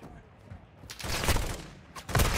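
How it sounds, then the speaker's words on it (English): Video game gunfire from bots in DMZ: rapid bursts of automatic shots, close and loud, in two clusters with a short lull between them. "The bots are shooting me right in the freaking mouthpiece."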